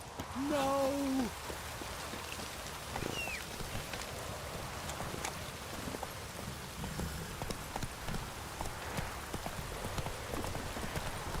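Steady rain patters on surfaces alongside faint hoof clops, with a short tonal call near the start and a brief whistle-like sweep, in the video game The Witcher 3: Wild Hunt.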